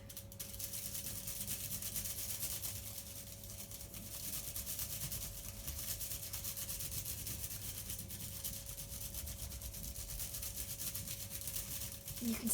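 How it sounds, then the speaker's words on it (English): A dark felt-tip marker is rubbed back and forth over paper laid on a leaf, making a continuous close scratchy rasp with a faint steady hum behind it and no speech. "a dark coloured marker or felt tip pen, okay? And you rub it over your leaf."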